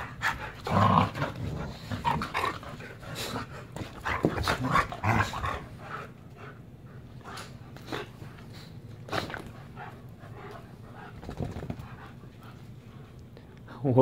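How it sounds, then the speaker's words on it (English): Bully-breed dogs panting, whimpering and growling up close, most active in the first few seconds and then settling into quieter breathing; a person talks briefly. "Crazy pups."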